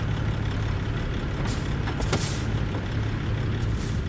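Truck in American Truck Simulator parking, with a low steady engine idle under a few short hissing air-brake releases, moderately loud and close; no talk.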